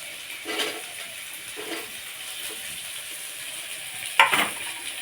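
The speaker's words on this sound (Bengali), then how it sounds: "এবার একটু ঢাকা দিয়ে ভেজে নেব।" Yardlong beans and potatoes frying in a pan, a soft steady sizzle with a few scraping stirs and a louder clatter toward the end, close and alone without talk.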